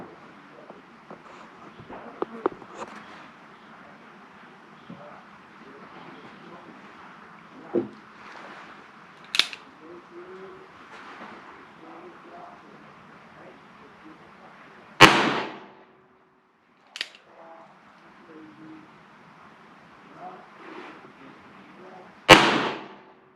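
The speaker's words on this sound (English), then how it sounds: "Okay, 5 more rounds with the 41 special." Two loud, sharp gunshots from a .41 Special revolver, firing wadcutter loads the shooter cast and loaded, crack out alone several seconds apart against quiet outdoor ambience with faint scattered noises.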